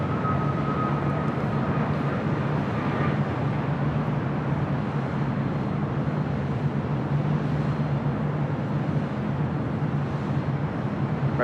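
SkyWest airliner taking off from runway 7 left at LAX, a steady, distant jet roar that holds evenly throughout, with a low engine drone and a faint whine running beneath the broadband rush.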